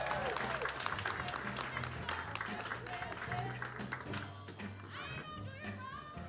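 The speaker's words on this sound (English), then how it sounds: "Clap it up for Emuye" An audience claps and cheers in a busy room at a 2019 conference keynote, with scattered voices and whoops mixed into the applause.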